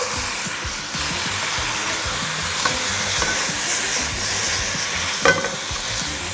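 Smoked beef sautés in a hot pan for spicy seblak-style spaghetti, a continuous close sizzle with scraping stirs and a few sharp spatula clicks against the pan.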